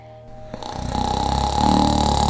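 Slow, rhythmic snoring swells louder over a couple of seconds, performed as the sleeping dog in a children's story, most likely a voice imitating a dog's snore.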